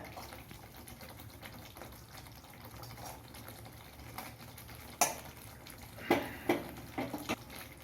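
Eggs stirred into a coconut milk egg gravy in a cooking pot, soft liquid sloshing and simmering throughout, with a few sharper utensil clinks against the pot near the end.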